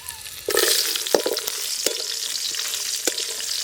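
Loud sizzling of chopped onion frying in hot oil with cumin and fennel, with a few sharp scraping knocks from stirring.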